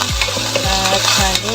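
Food sautéing in a little cooking oil in a pan, a loud continuous sizzle close up, with a low, regular tonal sweep repeating about every half second underneath.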